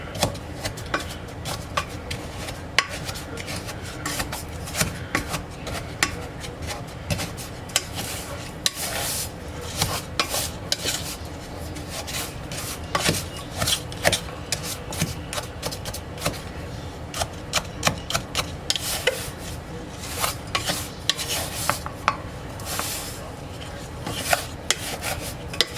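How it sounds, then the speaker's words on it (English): A spoon stirs a slightly lumpy pudding mixture in a bowl, making steady scraping and rasping strokes with frequent small clicks against the sides, continuing for the whole stretch. "we're gonna get this busted up and stirred together here"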